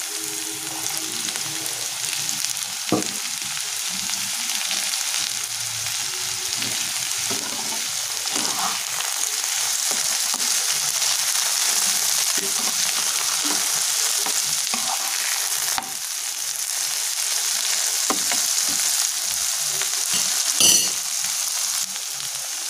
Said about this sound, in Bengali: এইভাবে এবার গাজরটাকে ভাজবো আমরা। এবার আমরা এর মধ্যে বিনসটাও দিয়ে দেবো।